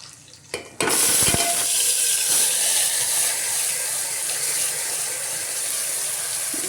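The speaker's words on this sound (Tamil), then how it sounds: "இப்போது அந்த உருளைக்கிழங்கு வறுத்த அதே எண்ணெயில் நம்ம மசாலா போட போகிறோம்." Ground masala paste dropped into hot oil left from frying potatoes, bursting into a loud sustained sizzle after a couple of soft clinks, the hiss steady and close throughout.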